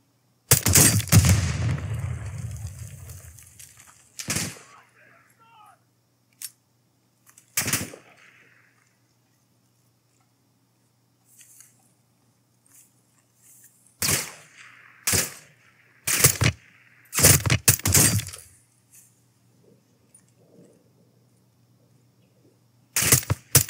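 Separate gunshots and short bursts ring out in a Call of Duty: Modern Warfare 2 mission against cartel gunmen, loud and sharp with long quiet gaps between them, a heavy opening burst and a cluster of rapid shots late on.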